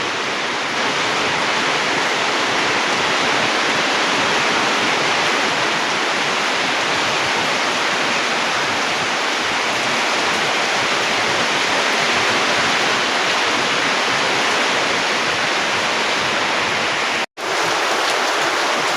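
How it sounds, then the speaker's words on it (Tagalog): Dense, steady roar of heavy rainfall, loud and continuous with no talk, briefly cutting out near the end. "Guys, sobrang lakas ng ulan."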